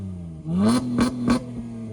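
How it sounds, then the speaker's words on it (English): A 2016 Honda Accord V6 coupe with its exhaust removed revs sharply three times over a steady rough idle, loud and close, each blip a raw rasping burst. "So this is the car without exhaust on."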